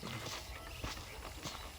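Horse hooves clip-clop at a walking pace on a ranch in the Red Dead Redemption video game, a faint, quick run of soft footfalls.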